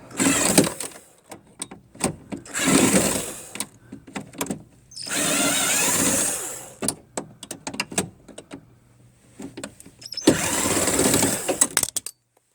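Power drill backing out screws that hold the driver's side duct inside a vehicle: several whirring bursts of a few seconds each, separated by pauses filled with clicks and handling sounds, close and fairly loud.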